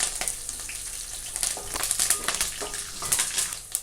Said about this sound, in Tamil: ஆட் பண்ணிவிட்டு ஒரு வாட்டி நல்லா ஃப்ரை பண்ணிவிடுங்க.